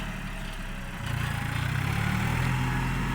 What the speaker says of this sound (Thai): พามาดู รถไถนิวฮอนแลนเลยครับพี่น้อง ดันยิน